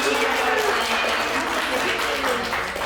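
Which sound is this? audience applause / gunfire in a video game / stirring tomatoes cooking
audience applause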